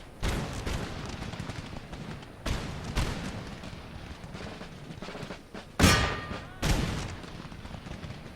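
Musket volleys ring out across a battlefield in Empire: Total War, with several sharp cracking salvos spread irregularly over a low rumble. Some crack close and loud, others sound more distant.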